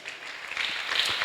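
A church congregation at a Sunday school gathering gives brief, moderately loud applause, with claps and cheering building slightly toward the end.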